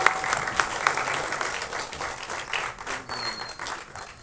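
Dense, sustained clapping from an audience at a song screening festival, a steady wash of applause held at even loudness throughout with no voices.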